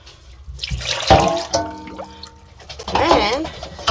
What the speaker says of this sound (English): Come in here and get the dogs fresh water.